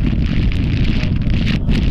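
Wind buffets an outdoor microphone on a blustery afternoon, a steady loud low rumble with gusty rustling that fills the whole stretch without letup.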